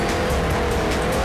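Full-size monster trucks race in the Dreamcast game 4 Wheel Thunder, with a loud, steady engine roar and screeching tire squeal running continuously throughout.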